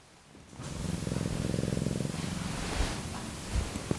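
A pet cat purring close by, a soft rhythmic rumble that starts after a brief quiet moment and runs steadily, with faint rustling and a few small clicks near the end.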